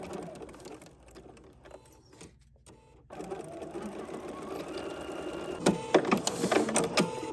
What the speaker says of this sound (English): we're just going to stitch 1/4 of an inch